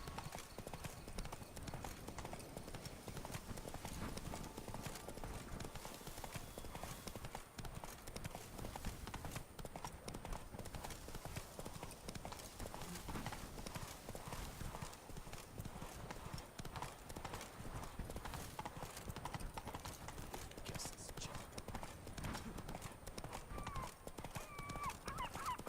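A horse clip-clops along in a continuous rhythmic stream of hoofbeats, fairly faint and steady throughout, with voices heard now and then.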